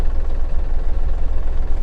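Yanmar AF33 Japanese mini tractor engine running in fourth gear, a steady close low diesel rumble with a slight throbbing, continuous and fairly loud with no talking.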